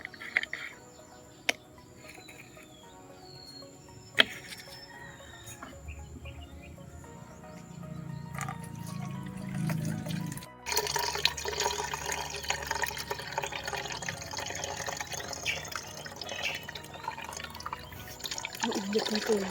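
Water poured through a net into a garden sprayer while mixing homemade organic pesticide: a low, gurgling fill that builds and then turns into a brighter, steady trickle and splash, with faint insect chirps and scattered drips behind.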